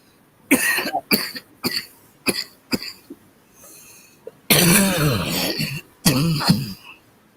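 A series of sharp, separate coughs with throat clearing, close by and irregular, ending in a longer harsh bout of coughing.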